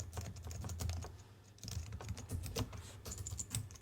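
A new email address is typed on a computer keyboard, with close, rapid and uneven key clicks running in bursts with a brief pause midway and no talking.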